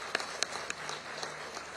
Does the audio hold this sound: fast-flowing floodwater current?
no